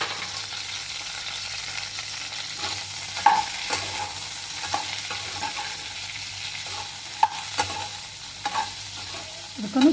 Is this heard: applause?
no